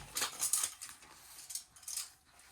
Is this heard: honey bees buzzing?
no